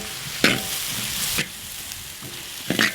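Mild green chillies and onion fry in hot oil, giving a low continuous sizzle with a few distinct stirring scrapes near the start, middle and end.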